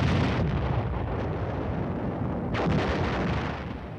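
World War II field artillery pieces firing in a massed barrage, a dense continuous rumble of heavy booms with a sharper blast rising about two and a half seconds in, loud and sustained with no voices.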